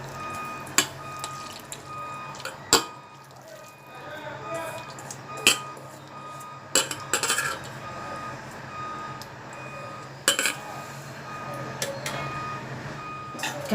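Keema, minced meat, is put into a bowl while a spoon clinks against it in sharp, scattered taps spread over the span, close by, with a steady background hum and a faint repeating beep.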